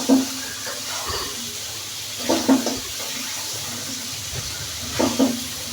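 Pigeon meat being fried down in oil for a bhuna, a constant close hiss and sizzle broken by occasional metallic stirring clinks, no voices.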